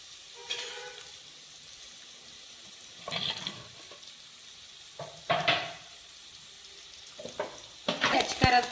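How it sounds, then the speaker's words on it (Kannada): Tomato curry fries in a pan, a quiet sizzle underneath with a few bursts of louder spluttering and clattering of a spoon against the pan at irregular intervals, close by. "ಸ್ವಲ್ಪ ಫ್ರೈ ಆಗಿ"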